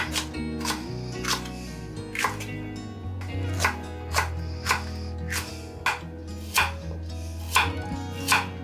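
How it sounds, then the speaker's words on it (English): Onions, garlic and other vegetables are chopped with a knife on a board, about fifteen crisp, evenly paced cuts close up, laid over a low steady hum with no talking. "I'll chop up some veggies, some onions and garlic."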